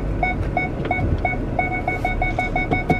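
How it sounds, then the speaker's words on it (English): A truck's warning beeper repeats steady short beeps at an even rhythm over a low engine rumble. "this beeping thing gets on my nerves."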